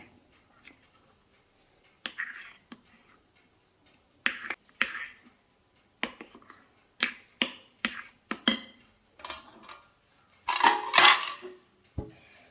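A spoon scrapes and clinks against a bowl while rava cake batter with vanilla essence is stirred by hand, giving irregular sharp taps and brief scraping bursts that grow busier toward the end, with quiet gaps between.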